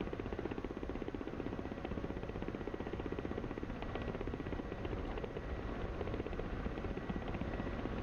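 Ka-50 coaxial-rotor attack helicopter flying low over ridges in the DCS combat flight simulator, a steady loud rotor thump and turbine roar continuing throughout without a break, close and dense.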